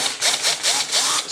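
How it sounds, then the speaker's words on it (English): A power driver fitted with a 5mm Allen bit whirs in short repeated bursts while backing out rounded-head screws from a Kawasaki Ninja 500 rear fender, close and fairly loud. "I've got this in a power driver"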